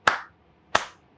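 Two short, sharp hand claps, close and crisp, about two-thirds of a second apart, each decaying quickly into silence.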